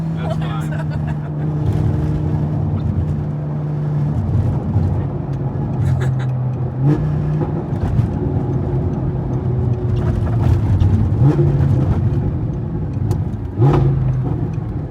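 A supercharged V10 Audi R8 revs hard, its deep engine note climbing and dropping through several distinct pulls, loud and close, with a whining edge over a steady rumble throughout.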